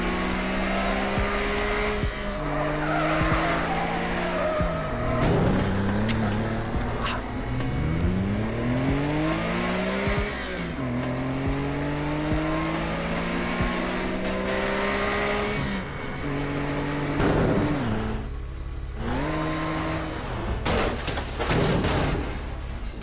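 Cars in a realistic Minecraft Backrooms game revving and sliding, engine tones sweeping up and down in long glides with screechy skids and a few sharp knocks, fairly loud and continuous.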